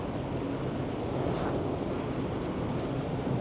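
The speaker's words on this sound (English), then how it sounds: "It's very windy up here." Strong wind buffeting the top deck of a P&O cruise ship at sea, a loud constant roar of gusts against the microphone with no speech.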